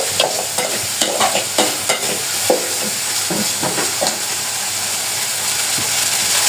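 Maggi noodles with masala are stirred and fried in a pan, with a steady sizzle under repeated scraping strokes of the spoon, close and clear with no talking.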